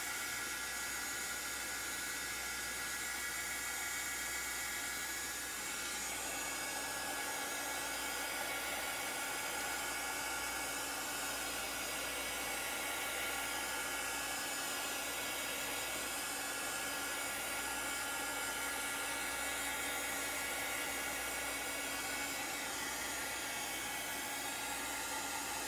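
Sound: heat tool drying craft paint

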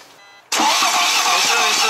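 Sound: BMW 520d engine cranking with broken timing chain

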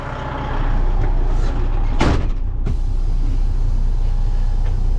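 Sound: 13-speed transmission truck driving

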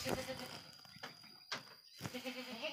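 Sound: Garut sheep bleating

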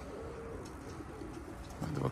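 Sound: pigeons cooing and flying

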